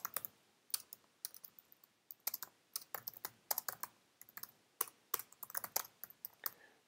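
Rapid keystrokes on a computer keyboard while entering text, sounding as irregular close clicks and taps in quick bursts with short pauses, alone with no talking.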